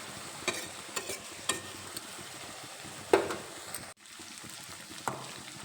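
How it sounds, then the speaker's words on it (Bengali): Spice paste for a cauliflower curry stirred and fried in a pan, a soft steady sizzle broken by a few sharp scrapes of the spoon, close and moderately quiet with no talking. "এই মশলাটা খুব ভালোভাবে কষিয়ে নেব"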